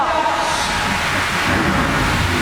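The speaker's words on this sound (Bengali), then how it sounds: "ঝড় জল বৃষ্টি বজ্রাঘাত।" Thunderstorm with rolling thunder and rain, a loud, dense rumbling wash that fills the whole short stretch without pause and without voices.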